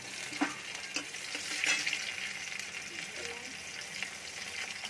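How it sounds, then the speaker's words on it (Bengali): Black cumin seeds and chopped onion fry in hot oil, a soft continuous sizzle with a few sharper crackles and stirring clatters, fairly quiet and without talk. "এবার এতে দিয়ে দেবো কালো জিরে, তারপরেই পেঁয়াজের কুচি"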